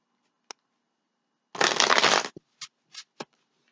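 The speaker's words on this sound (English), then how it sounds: "I do like to shuffle once I push record" A Tarot Illuminato tarot deck is shuffled: a single dense riffle of cards lasting under a second, close and crisp, set between a few short taps and clicks of the cards being squared up, with no talking.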